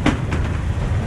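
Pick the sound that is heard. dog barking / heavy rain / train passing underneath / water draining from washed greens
train passing underneath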